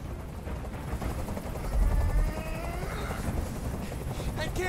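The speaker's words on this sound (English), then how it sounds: "Tell that helicopter to get out of here." Helicopter in the video game Detroit: Become Human, a low continuous rotor thump and engine drone running throughout, swelling briefly in the middle, with a voice speaking over it.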